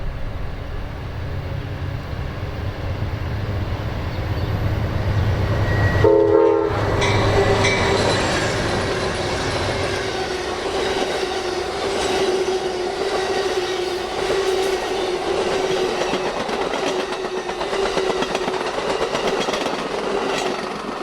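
An Amtrak Crescent passenger train rolls past with a long, steady horn blast over continuous wheel and car rumble that runs the whole time, loud and close.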